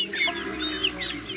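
Hen clucking close by in a farmyard with newly hatched chicks, a run of sharp, repeated squawking clucks rising and falling over about a second and a half.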